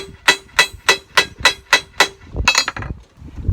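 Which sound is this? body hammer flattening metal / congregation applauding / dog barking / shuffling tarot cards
body hammer flattening metal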